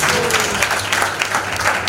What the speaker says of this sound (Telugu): చప్పట్లు కొట్టి దేవుడు